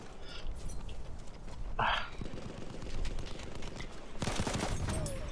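Gunfire crackles in a Battlefield 1 Conquest Assault match, bursts of shots sounding moderately distant in a busy battlefield mix, with a sharper volley near the end and voices talking over it.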